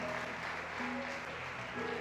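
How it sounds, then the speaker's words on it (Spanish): Audience applause at a church event, a steady, dense wash of clapping that fills the room evenly from start to finish, with faint voices mixed in underneath. "aplauden y aplauden y aplauden"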